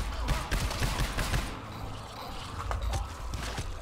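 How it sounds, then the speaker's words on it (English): Rapid gunshots in the co-op horror shooter GTFO, a volley of sharp cracks in the first second and a half, then scattered thuds and footstep-like knocks at moderate level. "I shot my gun"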